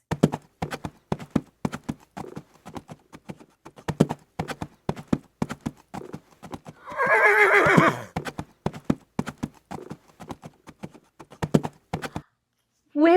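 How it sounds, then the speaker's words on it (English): A horse gallops with a rapid, rhythmic clip-clop of hooves and gives one loud, drawn-out whinny midway, the hoofbeats continuing afterward. "Gallop like a horse."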